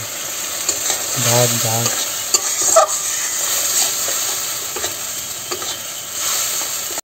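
A frying pan sizzles steadily as food is sautéed and stirred for mustard koi fish curry, with scraping strokes over a constant hiss and a brief voice speaking early on.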